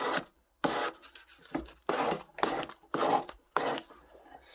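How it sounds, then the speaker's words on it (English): Sandpaper rubbing against the edge of a moissanite ring in five or six close, rasping strokes, each a short burst split by brief silences. "go back to my sandpaper, couple strokes,"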